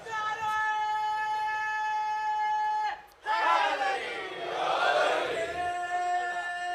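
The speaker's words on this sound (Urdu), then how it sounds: "اب یہ سادہ سادہ لوگ نعرے لگا رہے ہیں" Crowd at a Muharram majlis shouting religious slogans together, a loud surge of massed voices after a brief pause, with steady tonal drone and reverberant hall sound throughout.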